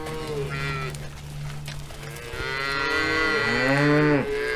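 Cattle on a farm lowing repeatedly, several long, loud moos close by with a few overlapping calls from the herd and no talk.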